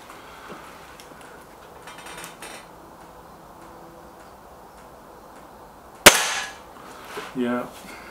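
A single sharp air rifle shot from a Gamo Whisper X or Hatsan 900X in a shooting contest, a sudden close crack after quiet ambience, followed by a brief ringing tail and faint rattle.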